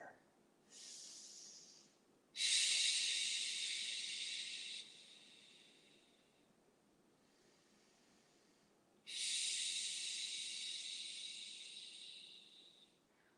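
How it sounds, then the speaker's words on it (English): Slow, deep breaths held in a deep runner squat during a yoga class, each long airy exhale hissing softly and close, three in a row with quiet pauses between them and no talking. "Close your eyes and breathe 3 breaths here."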